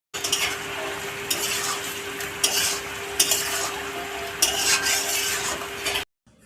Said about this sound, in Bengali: তারপর লঙ্কার গুঁড়ো দিয়ে ভালোভাবে নাড়িয়ে নিতে হবে।